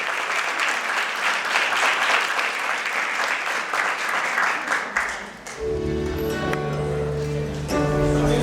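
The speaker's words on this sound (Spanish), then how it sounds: "le damos un muy fuerte aplauso" Applause from an audience at a literary café event for an Argentine 25 de Mayo celebration rises to a dense, sustained clapping for about five seconds, then gives way to a municipal music ensemble starting to play.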